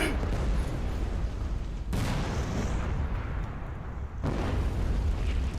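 A bomb in a Jeep explodes in Red vs Blue, a loud, sustained roar of blast and rumble with sharp new bursts striking twice, heavy and continuous throughout.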